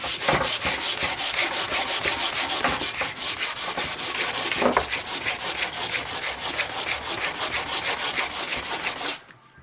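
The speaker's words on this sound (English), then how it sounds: "I'll sand this down" Sandpaper rubs back and forth over a wooden tool handle in steady rapid strokes, close and continuous for several seconds before stopping abruptly, with no voices.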